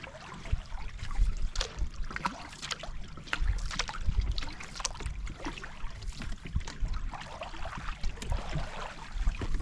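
A solo canoe paddles down the AuSable River, with soft irregular water splashes and dips from the strokes against a quiet, trickling current background.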